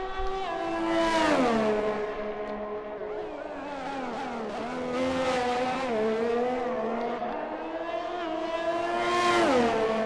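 A racing video game car on a flying lap around Baku, its engine droning loud and close, pitch climbing and dipping through gear changes and corners across the clip.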